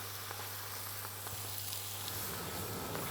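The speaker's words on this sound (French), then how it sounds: "Et pendant ce temps-là, on continue la cuisson de nos épinards." Spinach cooking down in a pan, a soft continuous sizzle with faint light crackles, quiet and steady throughout.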